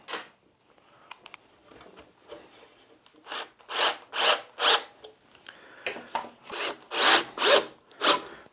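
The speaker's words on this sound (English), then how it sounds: "Now I've got to do is screw them in." A screw turned by hand into pre-drilled wood on a stool, giving repeated short rasping creaks in bursts that grow louder toward the end, close and quiet otherwise.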